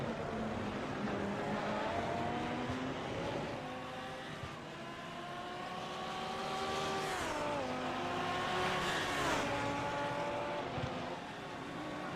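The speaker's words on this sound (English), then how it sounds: "about 90 screaming tires at this stage of the race too" GT1 and GT3 race cars at Long Beach hold a continuous, loud engine drone across the whole stretch, with gear-change pitch drops and rising revs, and tire squeal mixed in as cars brake and corner.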